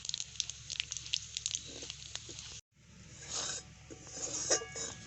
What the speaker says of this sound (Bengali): একটুখানি গোটা জিরে পাঁচ ফোড়ন সব কিছু হালকা করে ভেজে নেব